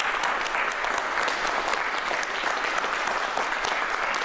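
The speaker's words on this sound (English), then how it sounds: "Let us applaud all the spirits who are with us tonight" Steady audience applause at a Day of the Dead ceremony in Whitby honouring the ancestors, a dense even crowd of clapping with no voices over it.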